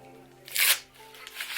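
Tight plastic packaging around a Dyson Airwrap is torn off in one short, crinkly rip, faint and close, with quieter rustling after it.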